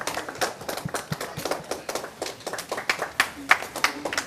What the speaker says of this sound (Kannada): ಚಪ್ಪಾಳೆ ಚಪ್ಪಾಳೆ ಚಪ್ಪಾಳೆ ಚಪ್ಪಾಳೆ